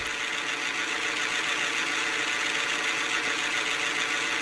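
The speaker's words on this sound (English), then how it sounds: "sounds like an old diesel engine" A Kiha 750 diesel engine in Train Simulator 2021 idles at a steady, unbroken drone with a busy mechanical rattle, sounding like an old diesel, loud and close with no voices over it.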